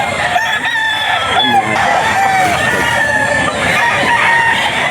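A Hatch Gray bullstag gamefowl rooster crows loudly and close at a pet market, several drawn-out cock-a-doodle calls with clucking and other fowl around, against busy background noise.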